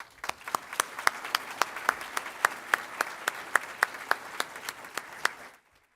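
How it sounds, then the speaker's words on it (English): A crowd at a nursing pinning commencement ceremony claps steadily for several seconds, a dense patter of hands with a few sharper claps standing out, then stops abruptly. "Please join me in a round of applause"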